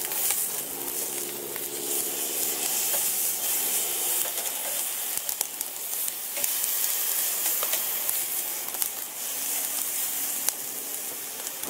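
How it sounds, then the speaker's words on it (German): Beef patties sizzling on a Weber Go Anywhere charcoal grill, a steady close hiss and crackle of fat spitting that runs without pause, with occasional sharper pops. "vom Rind kommt auf den Grill"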